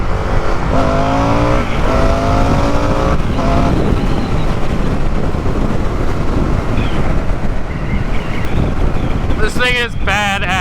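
A 2023 Indian FTR R Carbon motorcycle engine roars steadily under heavy wind rush while riding, loud and continuous for the whole stretch, with a shout near the start and a whooping voice near the end.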